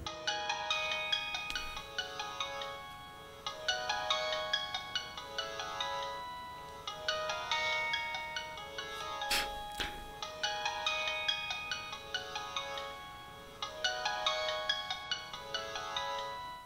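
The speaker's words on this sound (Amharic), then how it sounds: "ስልክህ እየጠራ ነው።" A mobile phone rings with a repeating melodic ringtone in regular bursts with short gaps, fairly quiet and alone in a room, with one brief click midway.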